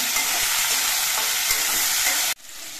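A drumstick curry with mustard paste is stirred in a pan, giving a steady close scraping and sizzling that runs for a couple of seconds before cutting off abruptly.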